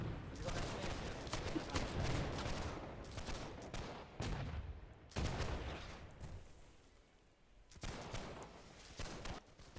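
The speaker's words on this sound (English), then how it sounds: "There's rocket-propelled grenades." Rocket launchers and gunfire from a Holdfast: Nations at War battle, with repeated bursts of blasts and shots in dense fusillade-like clusters, separated by brief lulls, moderately loud.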